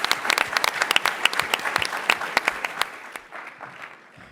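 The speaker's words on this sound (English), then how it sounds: "Round of applause." Audience applause at a TechCrunch Disrupt startup pitch competition, a crowd clapping with distinct sharp individual claps that thin out and fade over several seconds, fairly close.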